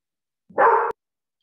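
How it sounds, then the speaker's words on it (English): A single short dog bark, close and fairly loud, heard alone against silence in a home setting during an online lecture. "I have a dog that just decided to start barking right at the beginning of my lecture"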